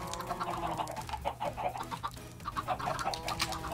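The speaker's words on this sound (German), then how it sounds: "Vor allem hier ist ein Huhn draußen." A chicken clucking in the Minecraft video game, repeated short clucks in a steady run over background game sounds, moderately loud and continuous.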